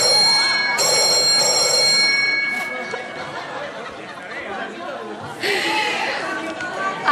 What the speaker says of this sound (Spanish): Ha sonado el teléfono.